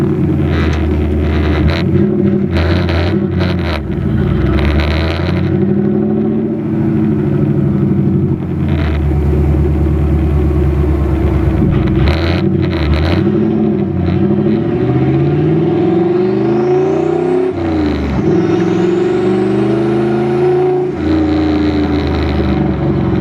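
A boosted Ford Crown Victoria with a 5-speed swap pulls hard through the gears, its engine note climbing and dropping with each shift, loud and steady from inside the car amid wind rumble, with no talking.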